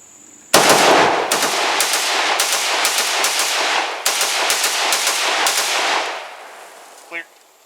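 Cugir WASR-10/63 rifle firing outdoors: about nine loud, close, sharp shots in fairly quick succession, each followed by a short echoing tail, ending in a faint click.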